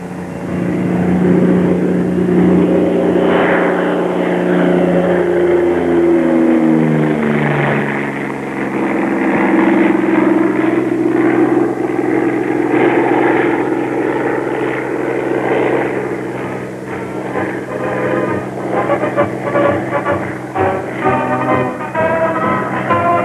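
A Bell P-39 fighter plane's engine runs loud and steady for the whole stretch, a heavy droning roar with shifting pitch as the engine speed changes.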